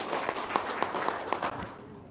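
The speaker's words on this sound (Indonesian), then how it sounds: "Tepuk tangan dulu dong biar semangat." Scattered clapping from a small audience, a few distinct claps standing out from a steady crowd murmur for a couple of seconds.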